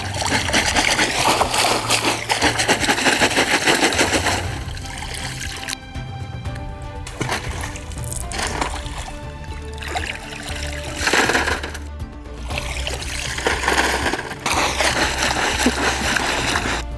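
River gravel sifted in a pan with water while hunting fossils on the Peace River in Florida, giving steady pouring, splashing and rattling that runs throughout, loud and close, with brief quieter pauses.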